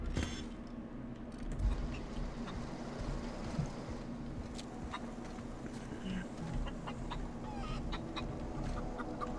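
A chicken clucks repeatedly in The Outer Worlds video game, short broken calls over a steady busy ambient background, with no talking.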